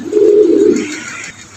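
A pigeon at a pigeon market gives a single close, loud, low cooing call lasting about a second before fading into the background murmur.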